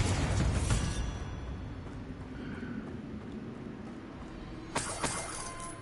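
A Bombarda blasting spell goes off in a tomb in Hogwarts Legacy, a loud explosive burst at the start fading into a low rumbling tail, then a sharper crack a few seconds later.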